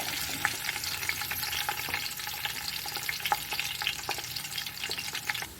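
Chopped onions sautéing with whole spices in a pan for Donne chicken biryani, a steady close sizzle with scattered crackles and occasional stirring scrapes throughout, no voices.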